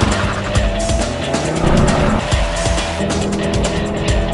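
Ford Focus RS with its reworked 2.5-litre turbo engine revving hard under acceleration, tires squealing across a loud, continuous burst of engine roar.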